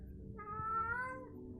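A cat cries out in one drawn-out, plaintive meow, clear and fairly close, rising and then falling away, with no talking.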